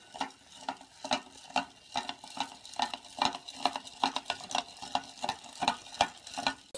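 A spoon stirs corn kernels in a container of water, making regular scraping and clinking strokes in a steady rhythm, close and alone.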